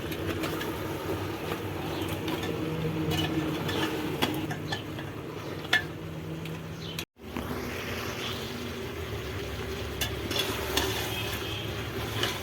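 Meat frying on a mud stove, with a spoon stirring it around the pan, gives a steady, close sizzle and scraping through the clip, broken by one brief silent gap partway.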